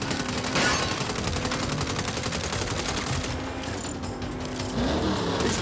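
Rapid bursts of automatic gunfire in the Saints Row reboot video game, dense rattling volleys up close that thin out briefly before resuming.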